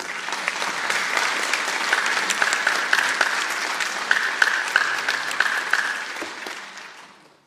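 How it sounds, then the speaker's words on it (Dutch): Warm, sustained clapping from the audience at a Dutch PhD defence ceremony, rising quickly and holding steady before tapering off to silence near the end. "als u wilt, even wel applaus"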